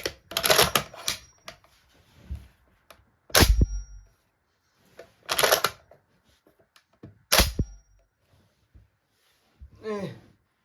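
A Bren gun fitted with a magazine being cocked and dry fired repeatedly, giving sharp metallic clacks and snaps in separated bursts, each a quick cluster of mechanical clicks, close and loud with quiet gaps between.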